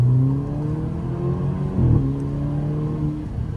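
An Alfa Romeo Giulia engine revs up as the car accelerates, a loud close tonal drone rising in pitch with a brief shift partway through, heard alone without talk.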